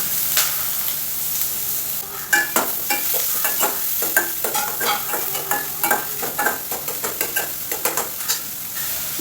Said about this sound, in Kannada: ಒಂದು ಟೇಬಲ್ ಸ್ಪೂನು ಎಣ್ಣೆ ಮತ್ತು ಒಂದು ಸ್ವಲ್ಪ ತುಪ್ಪ ಹಾಕಿ ಸರಿಯಾಗಿ ಕಾದ ನಂತರ ಇಲ್ಲೂ ಕೂಡ ಫೈನ್ಲಿ ಚಾಪ್ಡ್ ಈರುಳ್ಳಿ ಫೈನ್ಲಿ ಚಾಪ್ಡ್ ಕರಿಬೇವನ್ನು ಹಾಕ್ಕೊಂಡಿದ್ದೀನಿ